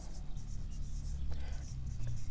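A marker or chalk writing on a board during a math lecture, with continuous scratchy strokes under low room noise and a faint voice.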